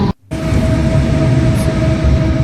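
A tram rolls along its rails on a cold winter morning in Saltivka, Kharkiv, a loud, steady rumble with a faint high whine, briefly cut off at the start.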